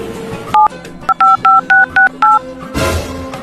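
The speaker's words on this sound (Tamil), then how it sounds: "எங்க அம்மா கால் பண்றேன்." A mobile phone dials a call with a quick run of about seven loud, evenly spaced keypad tones, followed by a burst of rustling handling noise.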